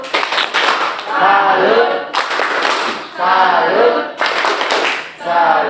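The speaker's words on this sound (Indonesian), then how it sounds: "Oke, kita tepuk salut pada kelompok 4." A classroom of students performs a rhythmic group clapping routine, with bursts of loud unison claps alternating with voices chanting together.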